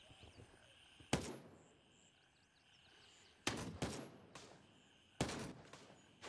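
Shotgun blasts in a video game: three loud, sharp shots spaced a couple of seconds apart, each with a short ringing tail, over faint ambient game sounds.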